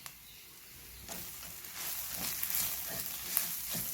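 Chana masala with dry mango powder and salt sizzling in a pan as it is stirred, a soft hiss building with repeated scraping strokes, close and quiet.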